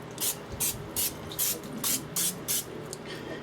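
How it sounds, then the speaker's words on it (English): Extra virgin olive oil sprayed in eight short, evenly spaced hissing bursts over potatoes being prepared for crispy low-fat cooking, close and clear with no talking. "we're going to be using extra virgin olive oil spray. All right, and then you just spray these."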